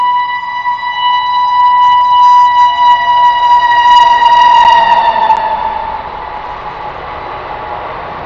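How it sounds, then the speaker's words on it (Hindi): A train passes nearby, sounding a long, steady, loud horn for about five seconds that then fades, over a low continuous rumble that lingers after the horn stops. "1 मिनट ट्रेन निकल जाए"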